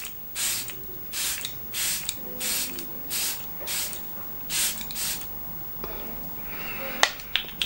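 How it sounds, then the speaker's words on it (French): Self-tanning spray mist released in a rapid series of about eight short, evenly spaced hissing puffs, close and clear, followed by faint handling clicks. "Il faut faire 6, 8 et le spray est fin."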